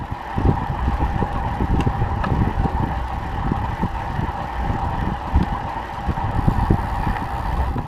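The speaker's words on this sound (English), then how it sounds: "So basically what you're hearing is the road sounds echoing through the wheel." A continuous rumbling roll of a rear disc wheel on a time-trial bike on road pavement, with a hollow resonant hum and gritty texture, steady and close.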